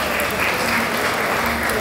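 Wedding guests applaud the bride and groom at a wedding ceremony, a dense, continuous roar of many hands clapping at an even loudness throughout.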